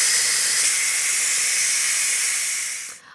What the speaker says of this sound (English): now I'm gonna go ahead and release the remaining pressure. And this is gonna take a couple of minutes to do because there's a lot of steam built up